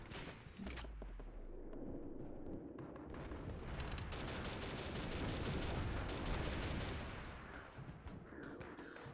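Gunfire and blasts from shooting in a late-1990s PC video game: dense, rapid bursts layered over a steady roar, continuous and loud with no pauses.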